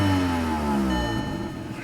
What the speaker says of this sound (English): I don't want to rev it too much.